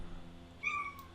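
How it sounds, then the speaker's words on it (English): A pet cat named Nelly meows once in the background of a quiet room, a short rising-and-falling call, fairly faint, with a steady low hum beneath it. "That's my cat in the background."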